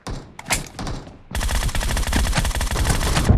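Sustained automatic gunfire in an 8v8 team deathmatch on a Santorini map, a few short bursts first and then a loud, dense, unbroken stream of close rapid shots with no talk.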